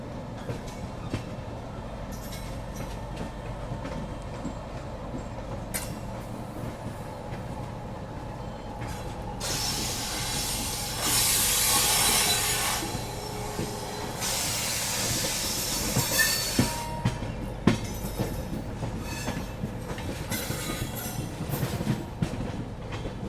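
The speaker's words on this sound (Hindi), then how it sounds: "यहाँ हमारी काशी विश्वनाथ एक्सप्रेस आगे बढ़ती हुई" Kashi Vishwanath Express on the Delhi to Lucknow route, rolling along the rails with a steady rumble, rhythmic clickety-clack and bursts of hissing rushing noise, moderately loud and continuous with no talk.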